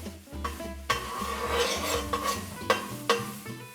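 Sausage cooks on medium-low heat in a pan for lasagna, a soft sizzle broken by sharp scrapes and clinks of a utensil stirring against the pan, close and unhurried, with no talking.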